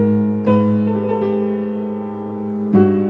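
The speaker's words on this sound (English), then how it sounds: "Playing the world's most out of tune piano." A badly out-of-tune piano is played up close, loud sustained chords with sour, beating tones, struck three times with new attacks, ringing alone without any talk.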